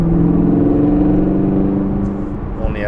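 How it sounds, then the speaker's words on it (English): Chevrolet Camaro 2SS idling and lightly revving up to around 3,000 RPM, a loud, close, low rumbling engine note that stays steady and eases off slightly near the end. "This car sounds good. This is just, again, the 2SS Camaro."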